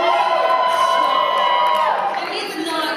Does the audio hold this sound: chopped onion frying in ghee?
no